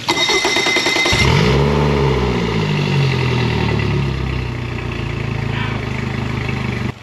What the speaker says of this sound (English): fire up the engine and get it to operating temperature